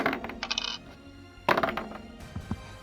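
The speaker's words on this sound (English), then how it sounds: "This is the Doom dice." Doom dice clattering across a surface in two separate rolls, each a short burst of rattling clicks settling into small taps, fairly close and clear with no talking.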